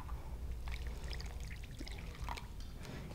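Hot water poured into a bowl holding a powder, a steady close-up splashing trickle that runs throughout with no talking over it.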